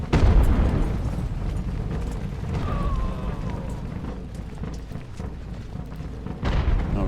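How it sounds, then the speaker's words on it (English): Cannon and artillery booms from the naval battle game Ultimate Admiral: Age of Sail, set at the Battle of Bunker Hill, rumble as heavy low blasts throughout, with louder bursts at the start and end under busy battle noise. "Target his artillery right away."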